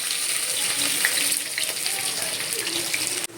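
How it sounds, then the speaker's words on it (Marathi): Onion sizzles in a little oil in a kadhai, a steady close frying hiss with small crackles throughout, briefly dipping at the end. "आता आपण कढईत घेऊया तेल थोडंसं त्याच्यामध्ये कांदा टाकला"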